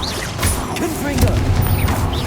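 A single Confringo blasting spell in Hogwarts Legacy explodes with a short, heavy boom amid fight noise, and a spell name is spoken.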